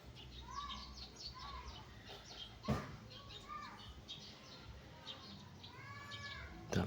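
Small birds chirp and trill repeatedly at a moderate distance against a faint outdoor background, with soft bumps and a quiet voice now and then.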